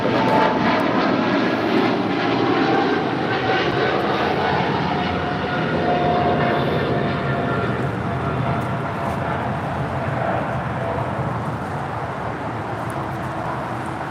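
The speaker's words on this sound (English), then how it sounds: "This is Japan Airlines Flight 15 taking off to Tokyo Haneda on a 777-300ER." Japan Airlines Boeing 777-300ER taking off from Los Angeles for Tokyo Haneda, a heavy, sustained engine roar close by that slowly fades in loudness as the jet departs.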